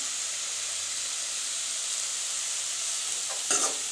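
Ridge gourd and coconut sautéing in a pan give off a steady, close sizzle with a soft hiss throughout, broken near the end by a brief scrape of stirring.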